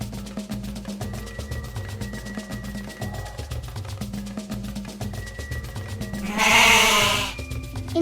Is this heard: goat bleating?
yes